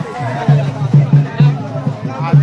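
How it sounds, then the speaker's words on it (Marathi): Dense crowd hubbub at a rural Saptashrungi Mata temple fair in Khandesh, with many overlapping voices murmuring close by and repeated rhythmic low thumps cutting through the continuous babble. "बघू शकता भरपूर गर्दी आहे"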